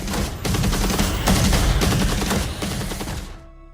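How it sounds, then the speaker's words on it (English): Rifle reports and heavy drum hits ring out together in a movie trailer, sounding as dense, loud, overlapping booms and cracks in bursts before cutting off abruptly into silence. "Note how Lars' drums match up with the reports of the rifle."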